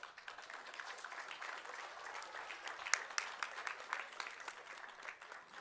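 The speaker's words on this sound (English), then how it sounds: "If you can give him a round of applause." Applause from an audience at a Bell Gardens city council event honoring a local business, steady clapping throughout with a few sharper claps standing out, moderately distant and filling the room.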